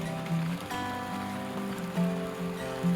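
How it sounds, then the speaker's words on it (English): Rain falling outdoors at a self-built homestead in the Pacific Northwest, a soft steady patter of drops on surfaces mixed with a low mechanical hum, moderately quiet and continuous with no talking. "It's not supposed to stop raining today"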